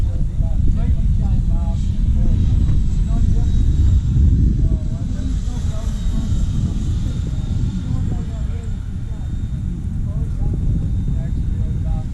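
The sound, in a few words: model F-86 jet aircraft flying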